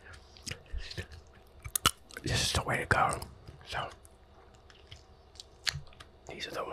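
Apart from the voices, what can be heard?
crunching sunflower seeds with shells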